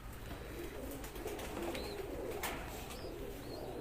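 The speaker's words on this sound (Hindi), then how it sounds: "लेकिन इतने काफी कबूतर वैसे है ना" Teddy pigeons in a loft coo softly in low, rolling calls against steady background noise, with a few short higher chirps from other birds.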